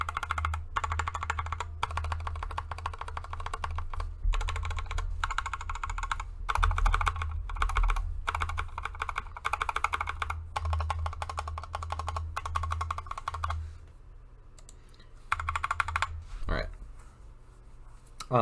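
Rapid, continuous typing on a Tokyo60 mechanical keyboard with no foam inside, giving hollow, clacky keystrokes in a dense run that thins to scattered presses and a few final clicks.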